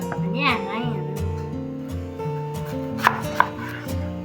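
A knife slices beetroot thinly on a cutting surface, with a few sharp, distinct chops standing out over a steady tonal background.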